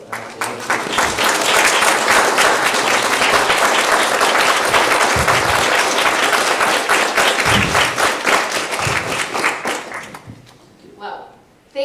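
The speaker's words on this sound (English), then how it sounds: "let us give a round of applause to Ashley" An audience at a panel discussion gives a panelist a full round of applause, loud and dense for about ten seconds before thinning into a few scattered claps and a quiet tail.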